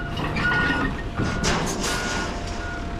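A roll-off waste truck hauling cardboard at a landfill backs up with its reversing alarm beeping steadily and loud, over diesel engine rumble and general yard noise.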